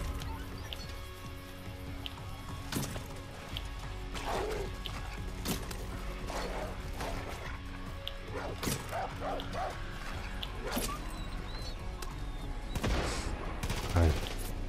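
A dog barks several times in Far Cry New Dawn, short yelps scattered among bursts of gunfire and game ambience, fairly faint and mixed, with a voice speaking occasionally over it.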